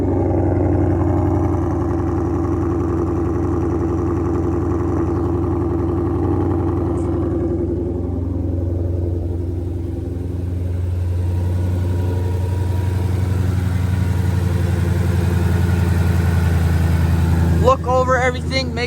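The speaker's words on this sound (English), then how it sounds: "Let's get you guys a little bit of the exhaust" A brand-new Shelby GT500 idles after its first start with fresh oil, a steady, deep exhaust burble that dips slightly midway then settles, ending with a brief voice near the close.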